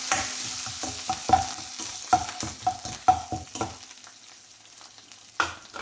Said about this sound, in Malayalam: അതുകൂടി ഇട്ട് കൊടുത്ത് ഒന്ന് സോട്ടായി കൊടുക്കാം.